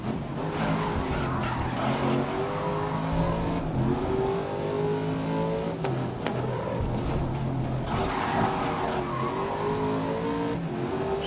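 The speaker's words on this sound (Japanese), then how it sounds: "なんだよ、その一速のレッドゾーンギリギリでスタートを迎えるセンスって何なんだろう。" Race car engine in GRID 2019 held near the redline in first gear for a rolling start on a wet track, a loud, steady buzzing drone with slight pitch shifts and tire hiss throughout.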